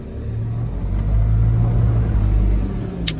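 A heavy tractor engine labours in second gear with four-wheel drive, pulling a 32-tonne lorry on a farm, giving a steady loud low rumble that swells slightly with effort.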